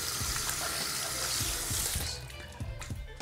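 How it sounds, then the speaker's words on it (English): Hands being washed under a running tap, a steady loud rush of water that thins out partway through into scattered splashes and drips. "I need to wash my hands"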